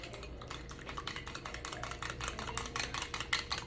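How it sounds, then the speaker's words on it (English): Quick rhythmic whisking of egg and milk in a bowl, a fast run of light clinks and scrapes that grows louder and sharper toward the end, close up with no talking. "With the egg, I'm going to go ahead and add some milk. Then I'm going to mix that together."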